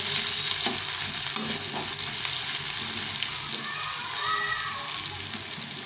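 A handful of onions fries in hot oil in a pan, a close, continuous sizzle with soft stirring scrapes running through it.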